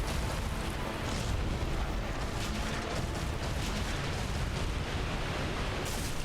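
Black Dragon Kalameet breathing fire in Dark Souls Remastered, a steady broad roaring rush of flame that holds at moderate level for several seconds without a break.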